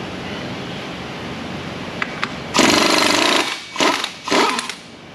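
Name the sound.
impact gun on Cummins engine pulley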